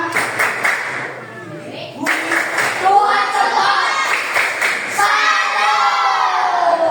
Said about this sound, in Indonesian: Tepuk salut. Tepuk tangan.